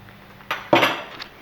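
A spoon knocks and scrapes inside a pot while chilli con carne is mixed, two quick metallic clanks up close with no talking.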